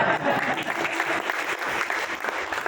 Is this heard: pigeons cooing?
no